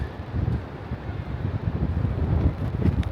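Gusty wind at the beach buffets the microphone in a low, rumbling roar that rises and falls in strength, with no voices over it.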